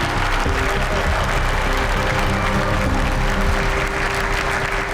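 Audience cheering and steady applause from a crowd at a biotech company's new-product launch as the chief executive appears on stage, a dense continuous roar lasting throughout without a break.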